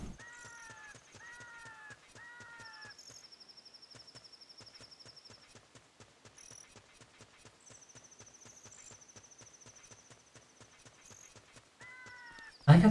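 Steady clip-clop of horse hooves trotting in a regular rhythm in The Legend of Zelda: Ocarina of Time, with game music tones and occasional chiming effects layered over it.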